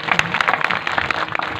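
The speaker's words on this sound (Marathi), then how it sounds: "एकदा टाळी वाजवा सर्व." An audience at a Marathi devotional kirtan breaks into brisk clapping, a busy, uneven spatter of many hands close by.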